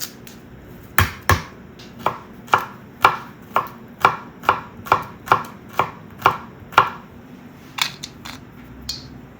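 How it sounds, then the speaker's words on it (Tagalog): A knife chops onion and bell pepper on a board in a steady run of about a dozen crisp, evenly spaced strikes, close and clear with no talking. "chop din natin yung sibuyas at ang ating bell pepper"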